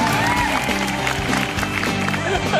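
Audience applause at a stand-up comedy show in Indonesia: steady clapping and crowd noise underneath music and a host speaking over it.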